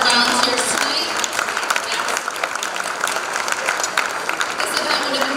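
Sustained applause from an audience at a Macedonian tribute ball in Detroit, dense clapping filling the room steadily throughout with a faint murmur of crowd voices underneath.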